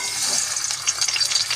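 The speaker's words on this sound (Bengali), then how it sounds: "চিকেনটা হালকা ভাজা হচ্ছে" A few chicken pieces fry in a small amount of oil in a kadai, giving a close, steady crackling sizzle with light stirring scrapes throughout.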